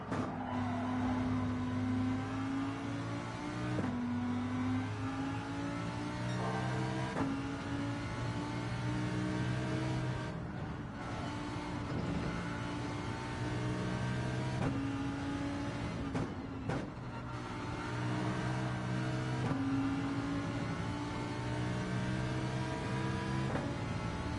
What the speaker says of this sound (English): so that you can hear the downshifts of this Lamborghini.